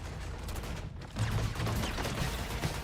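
Rapid gunfire bursts from a Batman Arkham combat simulation, a dense, steady barrage that grows louder and denser partway through and keeps crackling to the end, with no talk.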